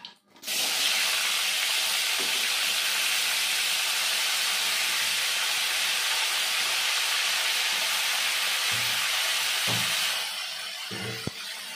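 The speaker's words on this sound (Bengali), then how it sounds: "এবার আমি ফুলকপিগুলো ভেজে নেব।" Cauliflower florets frying in hot oil in a home kitchen, a loud, dense, steady sizzle and hiss lasting several seconds before easing off, with a few faint clinks near the end.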